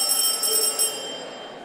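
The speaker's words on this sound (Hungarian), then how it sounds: "Utoljára hallják a csengő szót" A school bell rings in a Hungarian school on graduation day, a bright sustained metallic tone that holds for about a second and then fades, with no voices.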